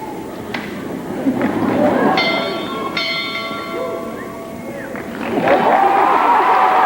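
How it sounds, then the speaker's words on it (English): A bell rings twice at a high school graduation ceremony, its bright tonal strikes sustaining over crowd murmur and a speaking voice in a large venue, with louder crowd noise rising near the end. "to ring the bell for blessings and good fortune"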